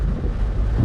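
Rain and low wind rumble fill a brief stretch outdoors on a Jamaican road trip in Hanover, a steady, noisy wash with deep buffeting, no distinct thunderclap standing out.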